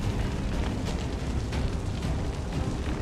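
A grenade detonates in the XCOM 2 video game, a loud, dense rumbling blast that fills the moment with sustained roaring noise and no speech over it.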